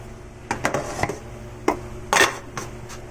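Avocado dalgona coffee being mixed in a bowl, a handful of sharp clinks and knocks of utensil against the bowl, irregular and close, over quiet background.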